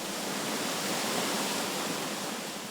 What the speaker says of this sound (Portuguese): Água fresca e cristalina brota das nascentes, desce pelas cachoeiras